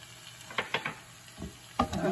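Ginger and garlic go into a hot pan for a Bengali fish head curry, making short sizzling bursts and stirring scrapes in three quick clusters over a quiet background.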